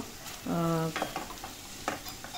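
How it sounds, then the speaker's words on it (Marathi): Mushrooms being stirred into masala in a pan for paneer mushroom masala: a few short scraping strokes of a spoon against the pan, close and fairly quiet, with a brief tonal whine partway through. "आता तो मसाला मशरूमला लागण्यासाठी आपण व्यवस्थित हलवून घ्यायचं आहे"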